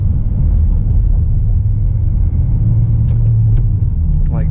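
Car interior while driving through busy city traffic near Spadina Avenue and College Street in Toronto, a steady loud low engine and road rumble throughout with faint passing-vehicle sounds and no talk.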